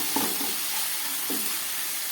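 Chicken pieces coated with spices fry in rendered mutton fat, producing a continuous, fairly close sizzle with a few soft stirring scrapes and bumps of a spatula.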